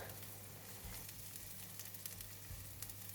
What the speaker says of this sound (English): Add in all garlic. Give it a stir.